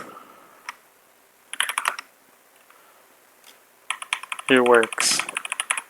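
Computer keyboard keys clatter in quick bursts while someone plays a typing game, brisk clusters of clicks separated by pauses, with a short spoken comment and a brief tonal game sound near the end.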